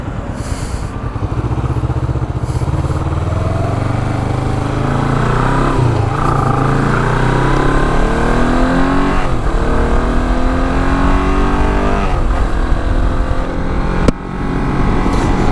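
A Royal Enfield Himalayan 400 twin-cylinder motorcycle engine, about 39 bhp, drones loud and close while riding, holding a steady rumbling tone with rising and falling revs throughout, no talk over it.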